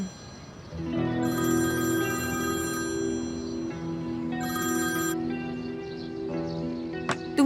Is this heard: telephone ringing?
yes